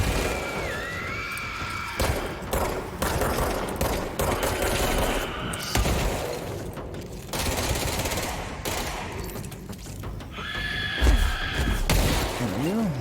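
Dense gunfire bursts and automatic fire erupt continuously in the shooter game Control, with loud cracks and booms from enemy weapons and occasional high electronic tones through the fight.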